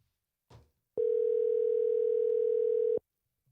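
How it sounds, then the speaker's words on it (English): A telephone tone for an outgoing call plays as one steady two-second beep after a brief click, loud and clear, with no talk. "I'm gonna make a phone call"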